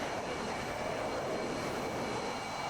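In the DCS World flight simulator, the jet engines of a MiG-31 run at full military power with the afterburner off. The result is a steady, even roar with broadband rumble and hiss, continuous and unchanging throughout.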